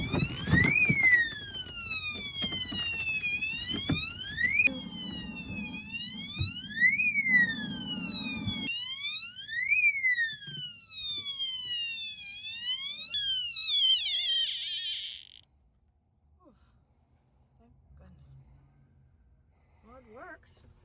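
A water leak detector alarm in an RV shrieks with loud, repeated rising-and-falling electronic sweeps for about fifteen seconds, then cuts off, leaving quiet room sound with faint movement.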